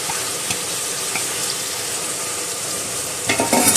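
Onion and tomato for a chicken curry are sautéed in a pan, giving a steady close sizzle with soft stirring scrapes and a louder clatter near the end, with no speech.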